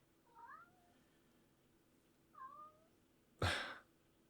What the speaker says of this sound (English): The wild cats.